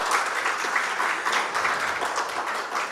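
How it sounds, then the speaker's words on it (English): Dense, steady applause from a large audience at an advertising conference in Mumbai fills the stretch, loud and continuous with no letup. "Get a bigger round of applause."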